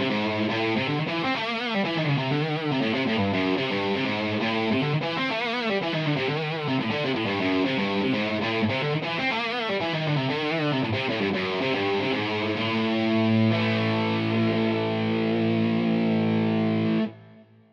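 A heavily distorted, layered electric guitar plays a riff, a thick, full-range wall of sound that chugs steadily for about seventeen seconds before cutting off abruptly, loud and close with no talking.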